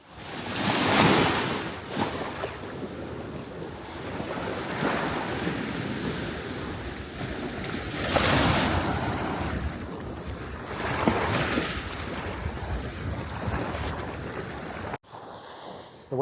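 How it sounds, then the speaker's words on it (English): Ocean waves rolling onto a St Maarten beach with strong surf, recurring swells of rushing water mixed with steady wind buffeting the microphone, loud and continuous. "The waves do get kind of strong,"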